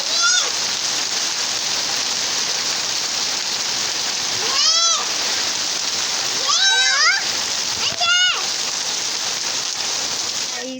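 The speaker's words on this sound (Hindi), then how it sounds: "इससे मतलब ओले की जो पड़ रही थी ओले उसी की आवाज़ ज़्यादा सुनाई दे रही थी।" Hail clatters steadily on a slate roof, a dense, continuous hiss of impacts throughout, while a voice and other voices rise in short bursts over the patter.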